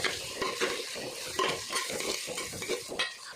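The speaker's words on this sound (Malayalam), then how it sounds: "നമുക്കൊന്ന് ഇളക്കാം." A spoon scrapes and stirs through chicken curry frying in a pan, with a crackling sizzle and a quick, uneven rhythm of scraping strokes.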